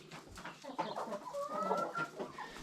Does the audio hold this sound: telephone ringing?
no